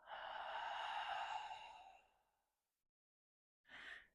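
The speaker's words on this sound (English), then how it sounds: "And exhale." A slow, deep breath let out through the nose, a long airy exhale lasting about two seconds that fades to silence, followed by a brief second breath sound near the end.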